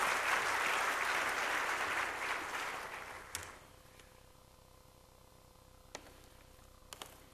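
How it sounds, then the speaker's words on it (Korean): A church congregation gives warm applause to welcome a visiting pastor at a Wednesday service. The clapping is dense and steady, then thins and fades out after about three seconds, leaving a quiet room with a few faint clicks. "우리 강윤구 목사님 나오실 때 우리 뜨거운 박수로 환영하겠습니다"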